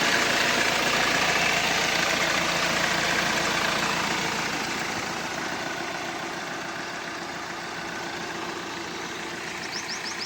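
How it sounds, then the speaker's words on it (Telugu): A 2017 Hyundai i20 Sports diesel engine idles with a steady, even hum and rumble that holds constant throughout and eases slightly in level partway through, with no voices. "ఇంజన్ సౌండ్ అయితే స్మూత్ ఉన్నది."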